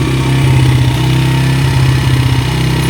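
A 1990s Honda XR100 motorcycle engine being revived runs close by with its throttle adjusted, a steady, loud single-cylinder chug pulsing rapidly with slight rises in revs.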